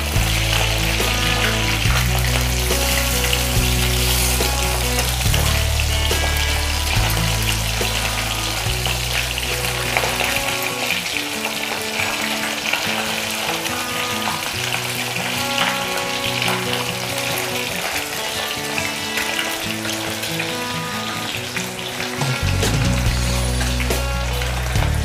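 Fish fries in a pan with a continuous loud, crackling sizzle, a steady spitting hiss that runs throughout, with a low tonal hum underneath that drops away for a stretch midway.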